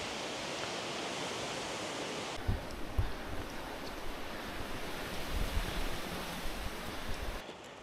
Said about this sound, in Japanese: 風が結構強いな